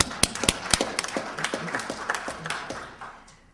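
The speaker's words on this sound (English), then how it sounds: "He deserves a round of applause." Scattered clapping from a small crowd, a few sharp claps standing out, gradually thinning and fading away over a few seconds.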